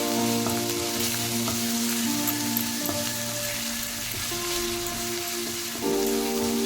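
Ginger, asafoetida and green chilli with chilli paste and turmeric fry in a pan, giving a steady close sizzle with faint stirring scrapes throughout and no talk.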